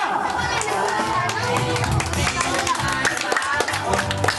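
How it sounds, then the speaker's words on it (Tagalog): Family and children clapping at a seventh birthday party, with busy overlapping chatter and kids' voices throughout; the claps are scattered and partly buried under the noisy crowd talk. "Palakpak muna."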